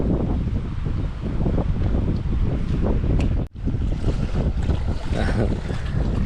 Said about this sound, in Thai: ลมแรงไม่หยุดเลยครับ